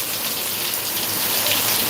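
Heavy rain pours down steadily in Deglur, a dense, continuous hiss of drops on surfaces, loud and close with no pauses and no voices.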